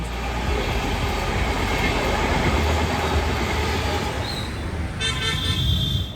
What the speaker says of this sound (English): from there we'll try to take a train back to Patna